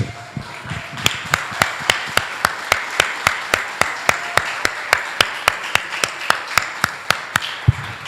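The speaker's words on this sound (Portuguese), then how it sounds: "Desocupa suas mãos e aplaude a Jesus." A church congregation claps in praise, giving a long run of sharp, evenly spaced claps in unison, about three per second, fairly close and bright, with no speech over them.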